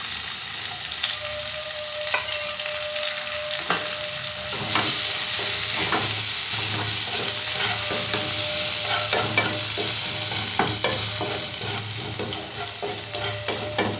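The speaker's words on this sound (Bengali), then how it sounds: "পেঁয়াজটা একটু ভাজা ভাজা করে নেব।" Chopped onions sizzle and crackle in hot oil with radhuni, a dried red chilli and a bay leaf, stirred with steady spoon scrapes while frying for a Bengali bata fish curry; close, continuous and loud with no talk.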